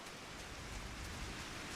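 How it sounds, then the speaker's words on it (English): Steady rain falls in the video game Final Fantasy XIV, a dense, even patter and hiss filling the whole moment at low, constant level with no voices. "Yeah, this rain, man."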